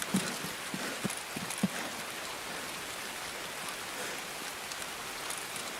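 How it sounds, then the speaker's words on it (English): Heavy rain falls in a video game, a steady, even hiss of drops throughout, with a few soft thuds early on and no voices. "Raining hard."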